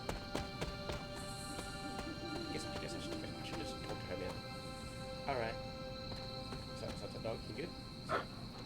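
Horse hooves clip-clop steadily in the video game Marvel Midnight Suns, set against a constant bed of crickets and ambient game sound, with a couple of brief louder accents.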